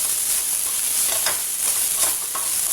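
Green chillies and masala fry in a pan for beetroot sabzi, a continuous crackling sizzle broken by a few soft scrapes as the mixture is stirred.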